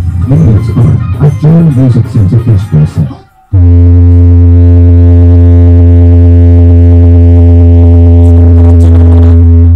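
A humming song blasted through an amplifier and speaker sound system, a loud sustained droning hum with steady low tones that fills the second half, after someone talks over the first part.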